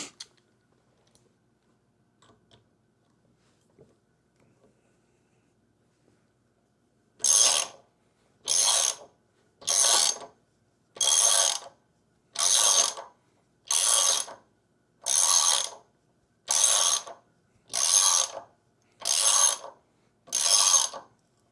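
Ratchet wrench tightening bolts coated with thread lock on a 2024 Harley-Davidson Road Glide, a run of about eleven evenly spaced, loud, crisp ratcheting strokes after a quiet stretch, with no talk.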